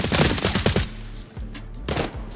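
Gunfire in the Arena Breakout Infinite video game: a rapid burst of loud, close automatic shots, a brief lull with low rumble, then another short volley of firing.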